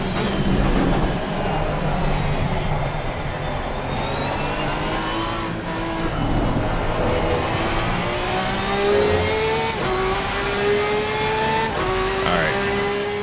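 A Porsche race car engine roars in the Assetto Corsa Competizione racing game, revving up and down through gear changes with rising, falling whines over a steady rumble, loud and continuous, with a voice briefly audible underneath.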